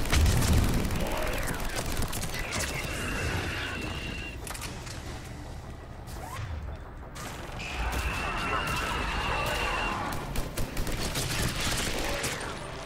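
Weapon fire in the video game Mass Effect 3 during a firefight at a temple on Thessia: sustained loud bursts of gunfire and booming impacts across the whole stretch, with a lull midway before firing resumes.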